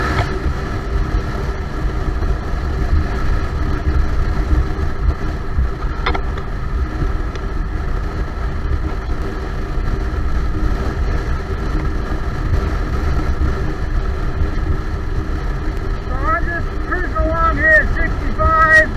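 A Yamaha Stryker motorcycle rides up an on-ramp onto the interstate, its engine a steady loud drone mixed with heavy wind rush throughout, with a brief rising note near the end.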